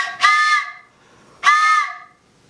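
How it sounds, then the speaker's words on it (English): Two loud, breathy blasts from a ceramic multi-chamber whistle, each a chord of several tones sounding at once like a train horn, separated by a short pause. "with the chamber being a different size for each whistle, they each make a different sound"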